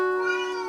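A domestic cat lets out a single short, tonal meow, close and clear, with no talking over it.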